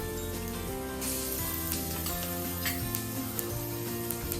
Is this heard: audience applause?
no